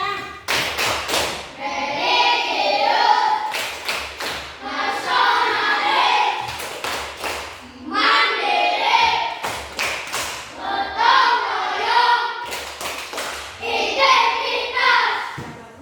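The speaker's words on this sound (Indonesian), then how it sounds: "sekarang marilah kita sama-sama tepuk PPK" Schoolchildren in a classroom perform the Tepuk PPK clapping chant, bursts of sharp synchronized claps alternating with sung or chanted phrases in a repeating rhythmic pattern, loud and close.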